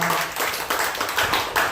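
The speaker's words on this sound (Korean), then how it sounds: "감사의 박수 한번 하겠습니다." A church congregation claps in thanks after a service, a brief, loud burst of many hands with a slight pulsing rhythm, close and filling the room.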